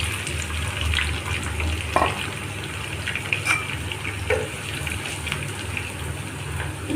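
Sliced onions and green chillies frying in hot oil in a pan, a continuous close sizzle with scattered crackles and occasional stirring clinks, no voices present.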